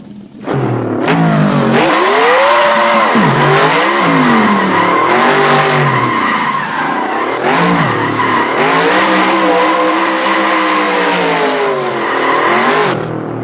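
A car revs loudly and its tires squeal in long wavering skids, engine pitch rising and falling as it drives hard, close and continuous, with no talk.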